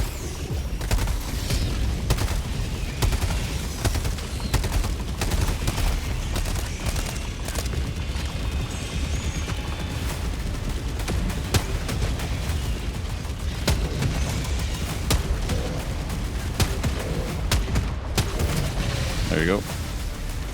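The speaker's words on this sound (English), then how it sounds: "Okay, so I'm gonna orbital barrage that breach." Orbital barrage strike in the Helldivers 2 video game pounding a bug breach: a dense, continuous roll of booming explosions and gunfire, with players talking over the din.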